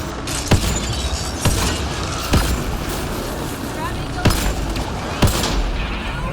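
Gunfire in the video game Mass Effect: Andromeda, with five sharp, loud shots spaced about a second apart over a constant rumbling backdrop of combat noise and game effects.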